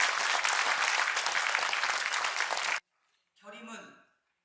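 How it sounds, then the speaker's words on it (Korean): An audience at the launch ceremony of the K Political Innovation Alliance party gives dense, steady applause for nearly three seconds. It stops abruptly, then a brief voice speaks. "박수로 맞이하겠습니다"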